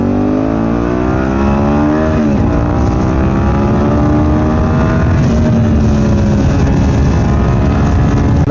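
A 2003 fuel-injected Suzuki SV650 S motorcycle engine revs and accelerates loudly up close, its pitch rising through gears with a dip as the clutch is worked, no talk over it.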